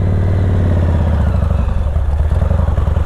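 A ZERO Engineering Type 5 motorcycle engine runs steadily up close, a low throbbing rumble with rapid rhythmic pulsing that grows slightly choppier as the bike moves off.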